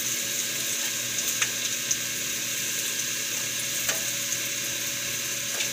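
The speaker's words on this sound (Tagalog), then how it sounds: "Haluin lang natin ng haluin guys para hindi masunog. Pare-parehas yung pagluto ng ating bawang." Garlic frying in a pan and being stirred, a steady loud sizzle with faint scraping and occasional clinks of the utensil, no voices.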